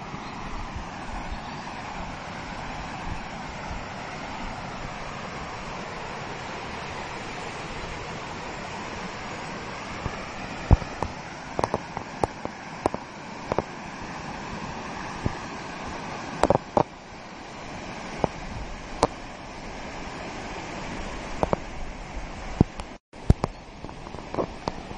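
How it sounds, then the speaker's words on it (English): Falling water roars in a constant broadband rush, fairly loud and unchanging, with occasional sharp clicks and knocks near the microphone. "Waterfall."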